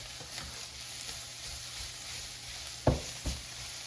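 Seasoned red cabbage sizzles steadily as it fries in a pan while being stirred, with two soft knocks of the utensil against the pan near the end.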